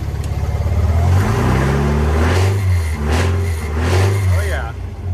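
A supercharged MG TA race car engine runs and revs as it warms up, a loud, close, rough mid-pitched drone rising and falling, while someone talks over it.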